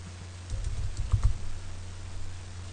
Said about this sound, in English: Just make sure that you obviously type in your email address correctly